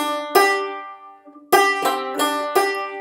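Bluegrass banjo picks a short phrase, a ringing opening note followed after a pause by a quick run of bright plucked notes, close and clear with no talking.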